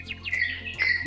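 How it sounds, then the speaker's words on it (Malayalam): Small birds chirp in a few quick, high tweets within a second, fairly clear against a quiet background, at a bird sanctuary in Kumarakom by Vembanad Lake. "നല്ല രീതിയിൽ തന്നെ കിളികളുടെ സൗണ്ട് നമുക്ക് കേൾക്കാനായിട്ട് പറ്റും"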